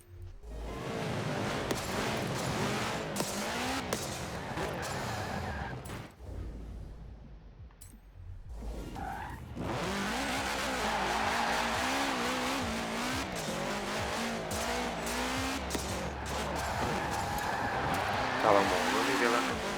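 A 2005 Subaru STI races in Forza Horizon's stunt mode, its engine revving up and down through gear changes with tire squeals and skids, briefly dropping out midway before returning loud; a voice talks faintly underneath.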